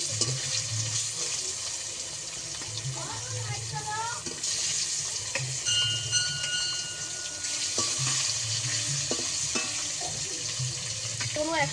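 Fish pieces and fish heads frying in a pan for a village-style spiced fish curry, a steady broadband hiss of hot oil with occasional clinks and a faint voice or background sounds underneath.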